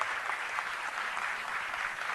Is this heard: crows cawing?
no